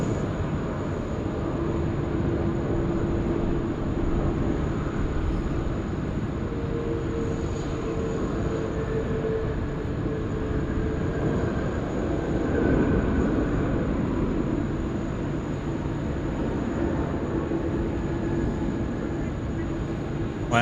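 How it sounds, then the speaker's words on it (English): An All Nippon Airways A330 lands on runway 16 right at Sydney Airport, a steady, fairly distant broadband jet roar that holds throughout with slight swells. "All Nippon Airways about to drop it in here at runway 16 right"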